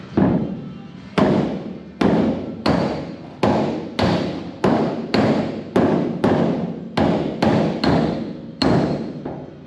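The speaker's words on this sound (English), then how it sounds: "You want to grab me a hammer and dolly?" A hammer and dolly strike the sheet-metal body of a 1956 Plymouth four-door in a steady series of about fourteen sharp, ringing metallic blows, evenly spaced and close by.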